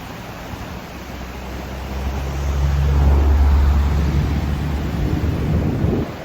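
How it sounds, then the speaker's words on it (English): The Alex River in taiga country running very high after a week of high water, its strong current producing a steady broadband rush with low rumble, swelling louder midway and staying dense to the end, with no voices. "So the river is very high."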